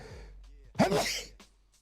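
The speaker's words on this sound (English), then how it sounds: "Jeez, here comes the sneezes." One close, sharp sneeze bursts out after a brief quiet intake, loud and alone.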